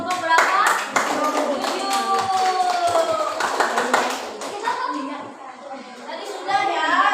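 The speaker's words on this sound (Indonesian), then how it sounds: "tepuk tangan dulu untuk kelompok berapa?" In a classroom, an audience claps for a student group, quick loud rounds of hand claps with children chattering and talking throughout, fading slightly before a final burst.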